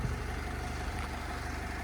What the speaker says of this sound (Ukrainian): Чуєте, як автомобіль працює.